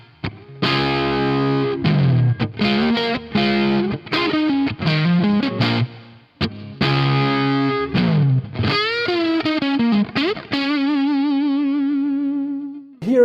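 Distorted electric guitar plays a riff with a wash of reverb, ending on a long sustained note that rings and trails away.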